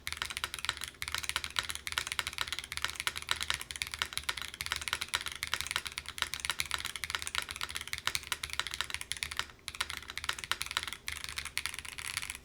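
Steady, fast typing on a Razer BlackWidow V4 Pro 75% mechanical keyboard after the tape mod was removed, a continuous close stream of crisp keystrokes with brief pauses and no talking.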